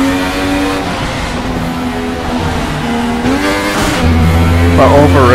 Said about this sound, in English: That over rev sound is harsh.